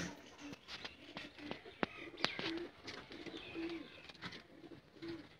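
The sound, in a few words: Sialkoti Sheikha pigeons cooing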